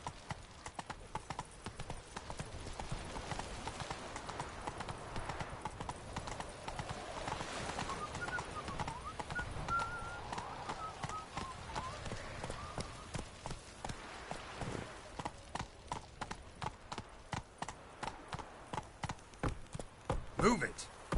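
Roach the horse clip-clops steadily in The Witcher 3, hooves striking in a brisk regular rhythm throughout, with a faint snort or whinny in the middle and a voice speaking briefly.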